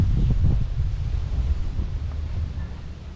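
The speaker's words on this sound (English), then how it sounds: "So this is very windy and I'm just beside the Strait of Johor" Strong wind beside the Strait of Johor at Pasir Ris Park buffets the microphone in a steady, heavy rumble, gusting slightly louder at the start before easing a little.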